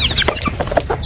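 Chicks and grown chickens cluck and cheep close by, a busy run of short chirps and clucks overlapping one another for about a second, with no talking.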